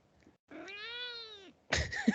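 A pet cat named Lloyd lets out one long, drawn-out meow after a faint brief sound, then gives a louder, rougher second meow, close by in a quiet room.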